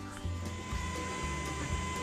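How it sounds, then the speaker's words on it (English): A 3D printer runs steadily while printing a replacement tripod part, a constant mechanical whir with a thin high whine and soft rhythmic stepping pulses, fairly quiet and close with no talk. "Alright, here we are at the printer. We've got this thing running."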